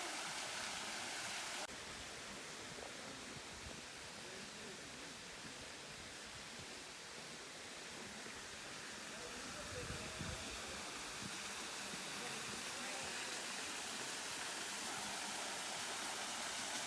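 Kondalilla waterfall pours into a swimming hole, a steady broadband rush of falling water filling the whole stretch with constant hiss and low rumble, with no break in its roar.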